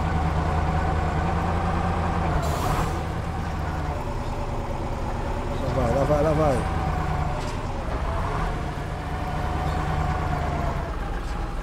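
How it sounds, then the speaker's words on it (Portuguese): A heavy truck engine in the mud-driving game Spintires drones loudly and continuously, revving up and down as it forces through mud, with someone talking over it. "Caminhão muito bom, cara. Melhor caminhão."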